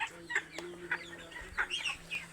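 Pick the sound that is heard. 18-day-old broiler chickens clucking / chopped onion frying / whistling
18-day-old broiler chickens clucking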